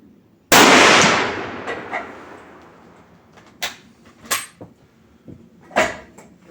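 An 8x57IS Mauser rifle fires a single reduced-load shot with cast lead bullets, a sharp close crack that decays slowly, followed by quieter metallic clicks and clanks of handling.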